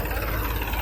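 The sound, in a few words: tractor engine passing on a farm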